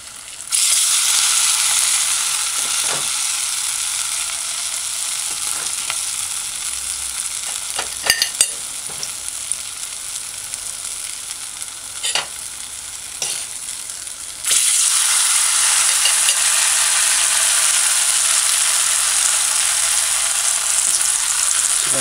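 Bammy frying in a pan gives a continuous, loud close-up sizzle with occasional pops and light scraping, holding steady throughout and briefly swelling near the end.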